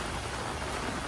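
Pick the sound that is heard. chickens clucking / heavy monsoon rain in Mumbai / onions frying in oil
heavy monsoon rain in Mumbai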